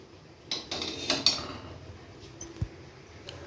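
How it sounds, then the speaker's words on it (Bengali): A metal wok, or kadai, set onto a gas stove in a home kitchen while cooking fish egg and vegetable curry: a few faint clanks and scrapes of metal on the burner grate, then a soft thud and a final light tap in quiet surroundings. "এবার কড়াইটা গ্যাসে চাপিয়ে দিব"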